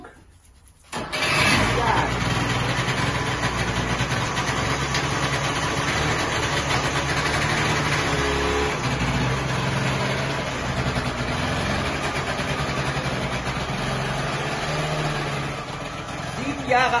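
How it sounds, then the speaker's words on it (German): An old car, sitting unused for seven years and running on seven-year-old fuel with the choke pulled, cranks and catches after a second, then settles into a loud, steady close-up idle while a person speaks briefly. "Jahre alter Sprit und der Wagen läuft immer noch"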